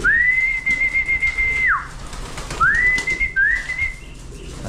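Clear, drawn-out bird whistles, a long steady tone that drops off at the end, then two shorter rising calls over faint background rustle.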